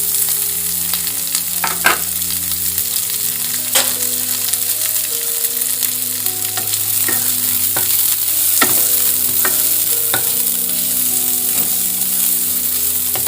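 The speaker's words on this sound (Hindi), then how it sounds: "प्याज को हल्का भूनेंगे।" Steady sizzling of onions with green chili, ginger and garlic frying with cumin in a pan, with occasional stirring clinks and scrapes; close and continuous, no talking.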